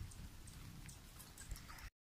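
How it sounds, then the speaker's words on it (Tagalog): Steady rain falls outdoors, a dense close patter of drops hitting surfaces with a soft constant hiss before cutting off abruptly. "Hindi makapaghanap po, umuulan."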